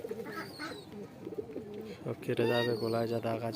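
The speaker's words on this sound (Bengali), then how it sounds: "এটা বাচ্চা পায়রা" A young pigeon coos in low, throaty bursts near the microphone, the calls rising louder toward the end while someone talks over them.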